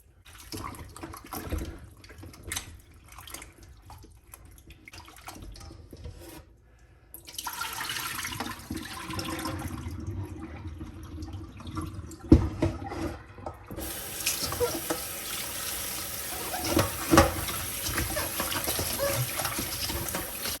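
Oxtail is washed with lemon juice under a running kitchen tap. Water splashes and rushes steadily, with rubbing and handling noises, and the flow grows louder and more constant toward the end.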